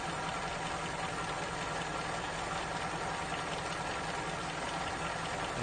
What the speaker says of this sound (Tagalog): ang andar ng makina. Ni Toyota 5K 5-speed